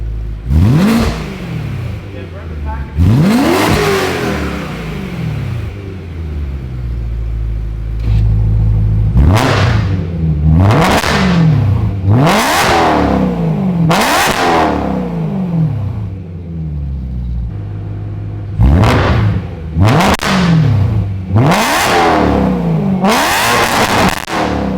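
A BMW E90/E92 M3 S65 V8 engine revs hard again and again through a new prototype X-pipe exhaust, each burst rising to a loud roar then dropping, with a deep rumbling exhaust idle between.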